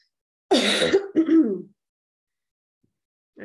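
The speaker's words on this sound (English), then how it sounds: "I'm still getting over this cough and I have it like stuck." A single harsh cough followed by a throaty clearing sound, close and fairly loud, then silence and a faint start of another sound.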